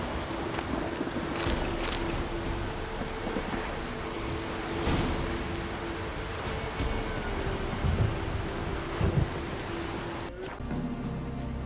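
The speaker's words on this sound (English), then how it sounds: "A storm, damn it" Steady rain pours down during a thunderstorm in The Witcher 3, with rumbles of thunder rolling in under the constant hiss and a few louder crackling bursts near the end.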